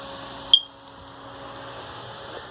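A single short high chirp from a smoke detector with a low battery inside a 2018 Keystone Bullet Crossfire 1650EX travel trailer, faint against a quiet background hum.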